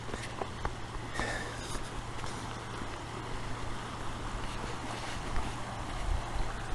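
A small river section flowing steadily in January, a continuous broadband wash of moving water with wind buffeting the microphone, fairly close and unbroken throughout.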